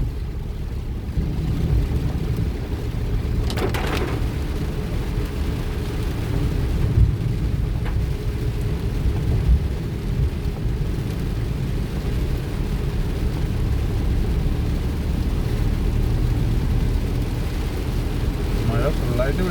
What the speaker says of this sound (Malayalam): മഴ ചെറുതായിട്ടൊന്ന് കമ്മിയായി